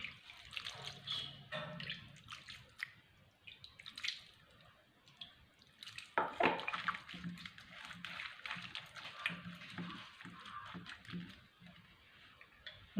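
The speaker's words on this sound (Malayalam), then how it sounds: "കുറച്ച് വെള്ളം ഒഴിക്കാം" Water is poured into a pan of cooking river fish, splashing and trickling in uneven bursts with a stronger gush midway, amid scattered light clinks.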